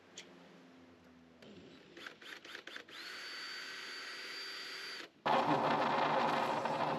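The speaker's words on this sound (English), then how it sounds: "So we need to put some holes in the vent." A power drill bores holes through a van floor for a toilet vent. A few short stuttering bursts lead into a steady whirring run, which breaks off briefly and then returns louder and rougher.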